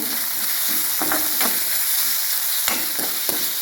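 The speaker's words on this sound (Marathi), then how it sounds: "आपण आता कांदा टाकून घेऊया।" Chopped onion fries in a hot pan for methi bhaji, giving a steady sizzle with a few stirring scrapes and clatters, close and alone.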